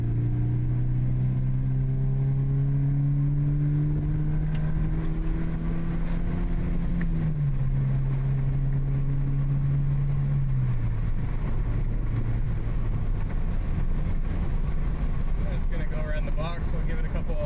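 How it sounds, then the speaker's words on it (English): A Scion FR-S fitted with a Supertrapp WaveTech muffler drones steadily while pulling up a hill, its exhaust note rising gradually and then stepping down in pitch twice, with a voice talking over it. "let's give it some revs going up the hill here"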